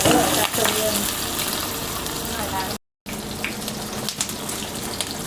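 Noodles deep-frying in hot oil to turn crispy for rad na with marinated pork, a steady close bubbling hiss with a short gap partway through and talk mixed in.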